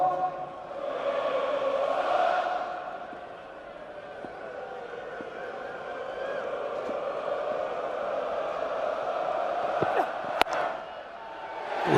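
A large crowd at a cricket stadium during a T20 final roars and cheers steadily in the distance, swelling and easing across the whole stretch, with a few sharp bangs near the end.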